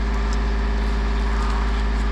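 A loud, steady low-pitched engine rumble of a tractor running nearby, continuous with a throbbing texture and no speech over it.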